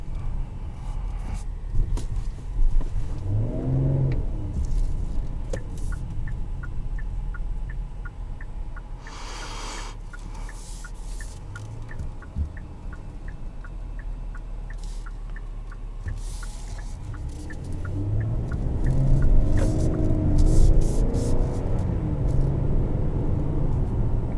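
A 2021 Kia Telluride SX Nightfall Edition accelerating aggressively, heard from inside as a steady low engine rumble with rising revs early on and again, louder, near the end.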